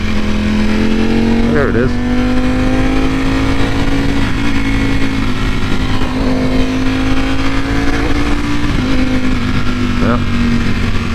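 A Ducati V4 motorcycle engine runs loud and steady, its note climbing and then breaking briefly at each quickshifter gear change, several quick shifts across the stretch, with a rider speaking over it.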